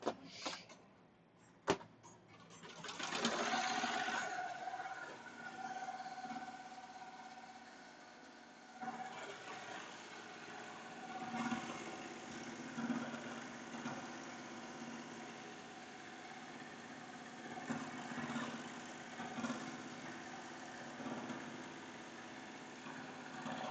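A Melco Summit embroidery machine stitching a mug rug, a steady mechanical hum and whir with a few sharp clicks at the start, running on alone at a low, even level.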